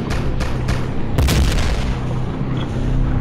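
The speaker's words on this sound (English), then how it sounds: "Shit's fucking exploding everywhere." Explosions in the shooter video game Hedon, a series of deep booms and blasts with one heavy hit in the middle, loud and close, no speech.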